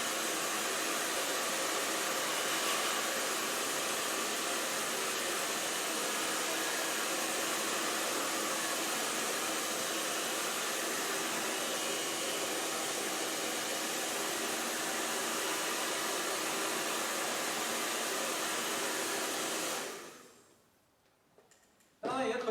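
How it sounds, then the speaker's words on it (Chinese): A hair dryer blows steadily and loudly across a Chinese ink landscape painting to dry the wet ink, a continuous broadband whoosh that runs for about twenty seconds, then cuts off abruptly, with a brief burst as it restarts. "我们就可以用吹干的形式。"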